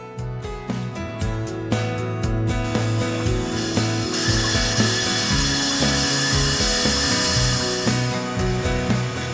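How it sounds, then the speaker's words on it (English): Roland EGX-360 rotary engraver cutting into the curved surface of a glass wine bottle with the spindle at 12,000 RPM, giving a steady, continuous whirring grind with rhythmic tonal shifts, close and fairly loud, with no talking. "The EGX 360 will perform precise engraving along the curved surface of the bottle."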